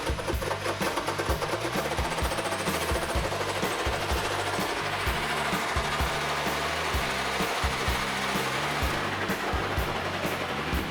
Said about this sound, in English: He's got a fine tooth hole saw, so it doesn't dig in and bite like if you use the coarse ones